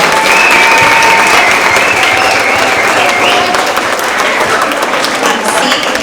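Sustained audience applause fills a school award assembly honoring a mock trial team, a dense, steady wash of clapping with crowd noise and a few faint voices mixed in throughout.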